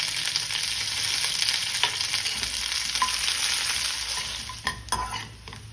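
Sliced shallots, curry leaves and dried chili fry in oil for a tomato curd curry, a close, bright crackling sizzle with a few spoon stirs and light clinks toward the end.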